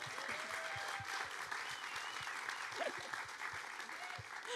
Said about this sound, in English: Let's another round of applause